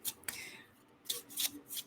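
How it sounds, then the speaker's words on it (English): Handmade tarot cards being shuffled by hand, a few quick papery riffles and slides in short bursts, close and fairly soft. "So we'll just start to shuffle some of these."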